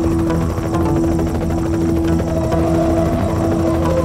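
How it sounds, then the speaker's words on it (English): An armed helicopter in Knight Rider: The Game 2, a loud, steady rotor thump and engine whine sustained close by, with no voices. "that helicopter is heavily armed"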